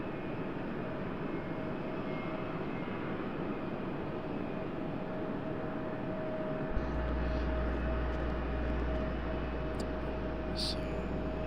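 A CRJ regional jet at RDU airport gives a steady, moderately distant engine roar that deepens into a heavier low rumble partway through, with no talk over it.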